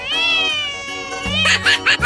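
A cartoon cat meows in a 3D animal slide video game, one long drawn-out meow followed by short bright chirpy bursts, loud and close with game music underneath.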